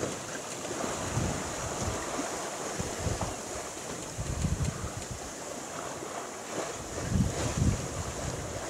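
A sailboat crosses the Atlantic in fair weather, with steady wind rushing across the microphone and waves splashing and surging against the hull, swelling in gusts throughout.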